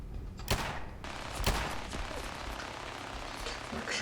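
Turret gunfire in the video game Fallout 4; sharp shots crack at regular intervals over a continuous roaring, rumbling battle din of constant loud intensity.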